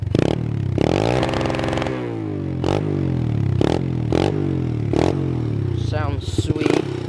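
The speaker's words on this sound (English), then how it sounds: "Idle's a wee bit low. Give her a rev for you." A quad fitted with a snow conversion kit revs its engine repeatedly from a slightly low idle, the rising engine note sweeping up in several sharp bursts close by, with brief talk between revs.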